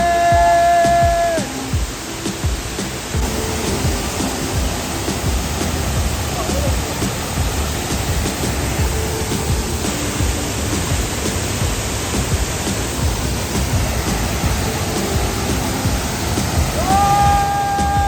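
Pepper Falls in Kodaikanal roars as a constant loud rush of falling water, a broad steady wash that runs from start to end, with faint tonal sounds near the start and close.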